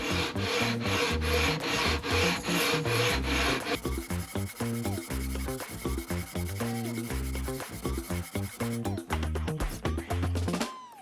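Steady, continuous rasping of sandpaper rubbing on a maple guitar neck, loud and close, with a rhythmic back-and-forth texture throughout.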